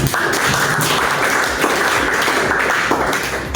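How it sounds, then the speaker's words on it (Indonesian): A classroom group claps for group six after their presentation, steady dense clapping filling the room at close range with no speech over it. "beri aplaus untuk kelompok 6"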